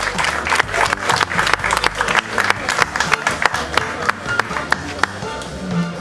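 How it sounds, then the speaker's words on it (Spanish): Crowd applause at an award ceremony for a fishing tournament in Villa Rica, Veracruz, a sustained dense clapping with scattered sharper claps throughout, fairly loud and close, with a voice briefly audible near the end. "brindémosle un fuerte aplauso."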